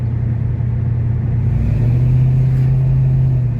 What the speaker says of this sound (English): This engine runs a lot better.